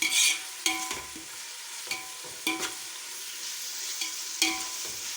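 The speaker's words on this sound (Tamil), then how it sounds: "இதுவும் அது கூட சேர்த்து கொஞ்சம் வதக்கிக்கிடுவோம்" Shallots sauté in a pan for chicken biryani, a constant oily sizzle broken by several sharp scraping strokes of a spoon against the pan at irregular intervals.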